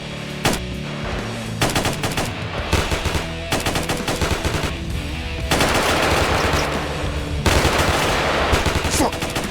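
Rapid automatic gunfire from GTA San Andreas, loud and close, in dense machine-gun bursts with short pauses between volleys, running continuously with no voices.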